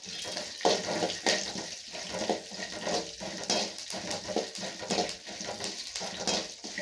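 Roasted gram, peanuts and curry leaves sizzle in hot oil, a steady close crackle and hiss with faint stirring scrapes running throughout, no voices over it.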